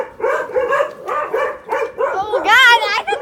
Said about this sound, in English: I thought he was barking